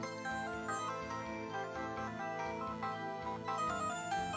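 A phone ringtone plays in an Ace Attorney game, a bright looping electronic melody with steady bass pulse, loud and continuous with no talking.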